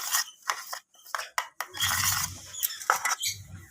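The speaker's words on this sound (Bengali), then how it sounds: "সর্ষের তেলটা দেওয়ার পর আমি মশলাটাকে ভালোভাবে চামচের সাহায্যে নেড়ে নিচ্ছি এইভাবে" A spoon stirs spice paste in mustard oil for a steamed cauliflower dish, giving close, irregular scrapes and light metallic clinks in short bursts.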